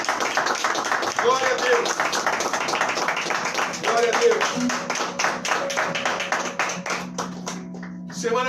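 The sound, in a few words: church congregation applauding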